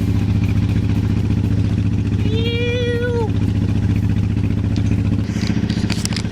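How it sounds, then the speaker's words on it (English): A sailboat's engine runs steadily while the boat motor sails with no wind, a loud continuous low drone throughout, with a brief rising whine partway through and a slight change in tone near the end. "I'm just motor sailing at the moment. Basically, there's no wind."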